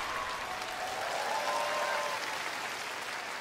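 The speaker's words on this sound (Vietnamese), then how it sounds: "Một tràng pháo tay lớn nữa dành cho Duy Khánh được không ạ?" A studio audience at a Vietnamese comedy stage show applauds a performer, a sustained, even wash of clapping at moderate distance, with a faint tone running under it.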